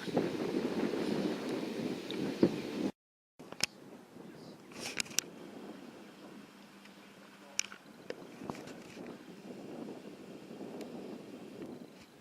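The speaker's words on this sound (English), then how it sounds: "That is a strong northerly." Strong northerly wind buffets the microphone at an open airfield site, a steady low rumble with gusty swells throughout, briefly cutting out before resuming; faint voices sit beneath the roar.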